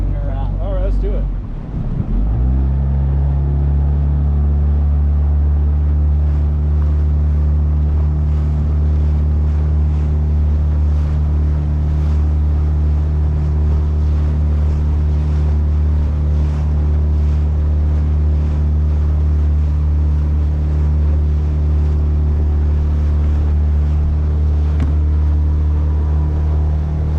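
A motorboat engine is opened up to full throttle during the Windjammer Days fleet gathering, settling into a loud, steady droning roar close by after a brief rev at the start.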